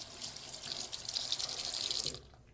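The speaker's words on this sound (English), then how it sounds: "They usually go ahead and get the soap first, then turn on the faucet, and then quickly wash it." Water runs steadily from a sink faucet for handwashing, a close, bright splashing hiss that stops abruptly as the tap shuts off.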